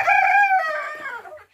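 A rooster crows once, loud and close, a drawn-out cock-a-doodle-doo that tapers off at the end with no talk over it.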